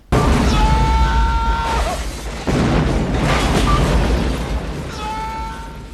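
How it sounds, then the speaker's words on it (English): Explosion in an action film scene, a deep booming blast with a sustained roaring rumble that swells again midway, loud and close, with faint tonal music lines over it. "he somehow survives this explosion"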